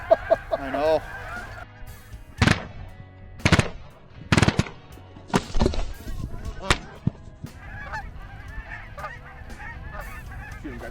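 Shotguns fire at waterfowl in a hunt, several sharp loud blasts in quick bursts mixed with honking geese calling throughout, with occasional voices.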